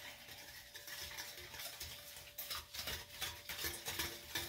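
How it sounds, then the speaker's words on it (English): A whisk stirs pumpkin pie filling with brown sugar in a bowl, giving soft, steady scraping and swishing that turns into a quicker, rhythmic beat toward the end, faint and close. "We're just going to whisk that all up to get that"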